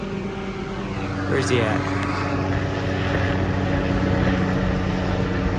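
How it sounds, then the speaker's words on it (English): A helicopter flies over a backyard garden in Columbus, Ohio, a continuous loud rotor and engine drone filling the air while someone talks briefly beneath it. "You cannot walk out in the yard without a helicopter flying over, I swear."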